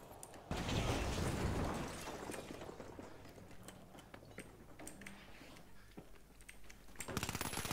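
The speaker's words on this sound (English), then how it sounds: "Frag grenade out." A frag grenade explodes in a shooter video game, a sudden loud blast that rumbles and fades over the next seconds beneath scattered clicks and crackling game sounds.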